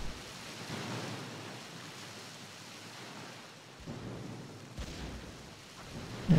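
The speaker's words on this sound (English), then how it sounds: "It's starting to rain" Steady rain with rolling thunder during a night naval battle in the Jutland warship game, a dense continuous wash of rainfall under low rumbles, with no voices.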